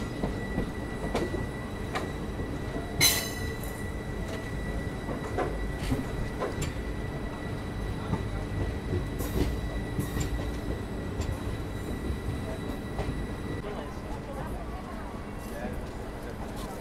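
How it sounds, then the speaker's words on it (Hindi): Begumpura Express rolling into Varanasi Junction, with steady rail rumble, metallic clanks and occasional brief wheel squeals, a sharp clank near the third second, people talking faintly in the background. "चलिए देखते हैं वाराणसी जंक्शन पर इसका अराइवल"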